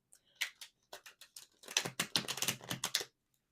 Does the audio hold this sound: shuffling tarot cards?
yes